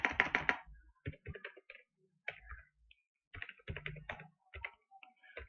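Typing on a computer keyboard while setting up a Spring Boot project, quick irregular bursts of close key clicks with short pauses between them.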